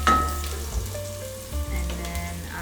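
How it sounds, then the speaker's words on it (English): Minced garlic and sesame fry in a pan and are stirred, a soft sizzle under low tonal background hums, with occasional scrapes of the utensil, close with no voices. "just stir it"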